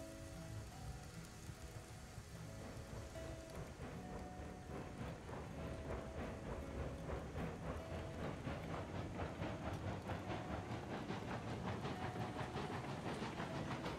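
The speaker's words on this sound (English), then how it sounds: "And we'll back this train out of here now as well." A video-game train reverses out of a multi-lane rail yard with a continuous low rumble and a rhythmic clickety-clack of wheels that grows steadier, with no talk.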